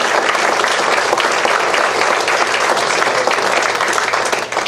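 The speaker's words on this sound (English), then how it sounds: "Let's give Gary another round of applause." Sustained applause for Gary, honored as Citizen of the Month, fills the room with a dense, steady roar of clapping that holds evenly, then begins to taper right at the end.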